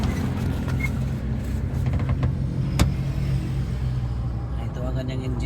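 Engine of a DA17/DA64 mini dump truck rumbling steadily up close, with someone talking over it.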